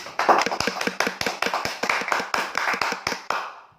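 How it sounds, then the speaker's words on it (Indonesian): A quick, steady run of hand clapping from a small group, closing a school Indonesian-language practical exam presentation in podcast format; close, bright and continuous, then fading out at the end. "Tepuk tangan buat masing-masing."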